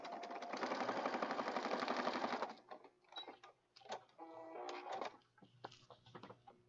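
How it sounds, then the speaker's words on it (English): A sewing machine stitches across a paper junk journal page in a fast, steady mechanical buzz for a couple of seconds, then stops and gives way to scattered clicks and paper handling. "I'm going to go back to the sewing machine and just stitch right across the top here"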